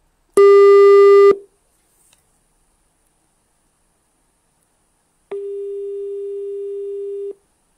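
A telephone busy tone from a call that fails to connect on a radio phone-in programme sounds as a loud steady electronic note, about one second long, then silence, then a second longer stretch of the same tone lasting about two seconds.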